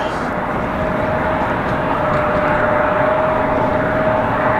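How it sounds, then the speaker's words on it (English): An Embraer E175 regional airliner taxiing at Raleigh-Durham International Airport, a steady loud broadband jet engine roar with a sustained whining tone, constant and close throughout. "As we finally have that E175 taxiing out."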